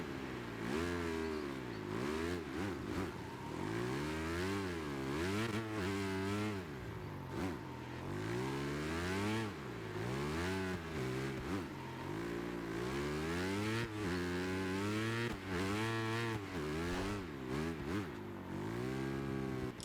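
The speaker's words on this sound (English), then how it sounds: "so you can hear the sound of the bikes, hear the sound of the tyres squealing" Racing motorcycles, training bikes in the video game MotoGP 25, rev hard and steadily, their engine pitch rising and falling in repeated waves through gear changes, loud and continuous without voices.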